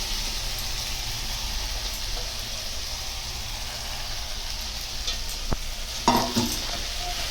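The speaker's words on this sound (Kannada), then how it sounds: "ಇವಾಗ ನಾವು ಮೆತ್ತಿ ಸೊಪ್ಪನ್ನ ಮಿಕ್ಸ್ ಮಾಡ್ಕೊಳ್ಳೋಣ." Aloo methi bhaji of potatoes and fenugreek leaves fries in a pan while being stirred, giving a steady soft sizzle with occasional scraping clicks of the spoon, close and fairly quiet, no talking.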